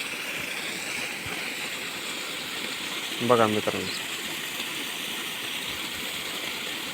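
Water pumped up by a borewell motor gushes from a pipe into a channel beside a sugarcane field, a steady, continuous rushing flow. Someone briefly speaks over it partway through.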